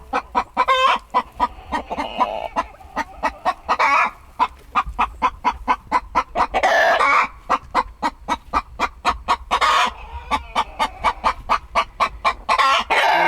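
Chickens cluck in rapid, repeated bursts inside a backyard coop, loud and close, with rhythmic calls running continuously and no talking over them.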